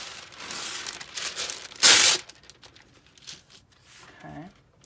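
Wax paper, parchment-like with one waxier side, ripped off its roll in one loud, sharp tear, with lighter crinkling before and after.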